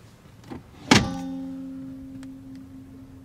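Tesla Model S actuated glove box, velour-lined with LED lighting, opening: a soft click and a single solid thunk, then a faint steady motor hum that fades over the following seconds, close and alone in a quiet cabin.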